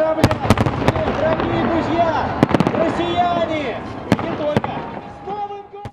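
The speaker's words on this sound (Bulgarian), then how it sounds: "Фойерверки бяха изстрелвани от 38 различни места в града." Fireworks bursting over Moscow's Red Square beside the Kremlin walls, launched from many sites across the city: loud, sharp cracks and booms in irregular clusters over a continuous crowd murmur, with a voice speaking at moments.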